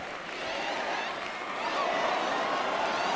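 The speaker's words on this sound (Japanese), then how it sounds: "拍手が湧いてますね。" Spectators at a women's pro wrestling event clap along under loud live commentary, a steady crowd roar that swells midway and then holds.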